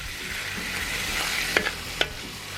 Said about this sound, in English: We're going to get that browned up in there in that wok with that garlic and ginger and some Tsang stir fry oil.